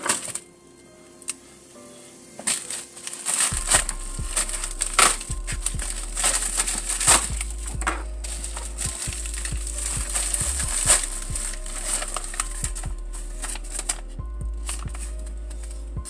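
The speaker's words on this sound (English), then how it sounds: "Let's get this shit unwrapped." Plastic wrapping and packaging being torn and crinkled off an Illestautosounds RCA splitter box, with close, irregular crackling, rustling and sharp handling clicks over a low steady hum.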